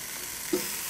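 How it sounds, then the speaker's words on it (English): Food sizzles on a preheated indoor grill, a steady hiss with one brief louder pop partway through, close and alone without talk. "Get it to where it's preheated. Ooh, yeah, that's sizzle."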